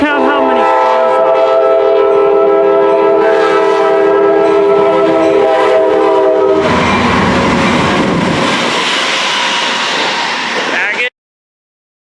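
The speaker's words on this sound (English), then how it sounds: "Here we got a mooing cattle train." Model railroad train with cattle cars rolling past, a steady rumble with horn-like tones, then a broader washing noise in the second half before an abrupt cutoff; the sound of mooing is not distinct.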